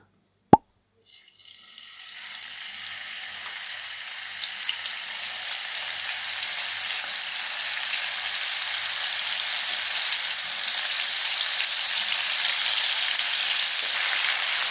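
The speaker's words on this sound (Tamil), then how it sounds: "எண்ணெய் சூடானதும் இதில் கொஞ்சம் கொஞ்சமாக இறாலை சேர்த்து வறுத்து எடுத்துக்கலாம்" Prawns drop into hot oil in a pan with a single sharp plop, then a frying sizzle swells over a couple of seconds into a loud, steady crackle that holds to the end.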